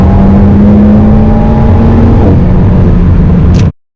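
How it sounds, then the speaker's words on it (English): An Alpine A110's small inline four-cylinder engine revs loudly with a deep, grumbly, bassy tone, holding a steady high drone before the pitch shifts and the sound cuts off abruptly at the end. "they've turned a relatively small capacity inline 4-cylinder into a proper drama queen. It's really loud and it has the tonal quality of a boxer engine"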